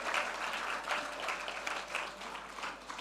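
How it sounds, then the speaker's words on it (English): An audience applauds young performers at a Caribbean cultural event, producing a steady wash of clapping at moderate distance that holds evenly for several seconds with a faint voice underneath. "Please give the young people another round of applause."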